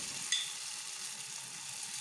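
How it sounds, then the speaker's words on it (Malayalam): Cauliflower frying in a pan, a steady, even sizzle of hot oil that holds at a constant level throughout, with no voices. "അപ്പോൾ കോളിഫ്ലവർ കൊടുക്കാമെന്ന് ഓർത്തുകൊണ്ടാണ് ഞാൻ വറുത്തുകൊണ്ടിരിക്കുകയാണ്"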